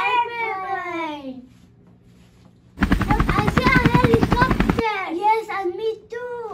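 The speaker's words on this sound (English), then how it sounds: "Helicopter, helicopter, helicopter." A helicopter flying overhead makes a loud burst of rapid rotor chopping for about two seconds. Children's voices come before and after it.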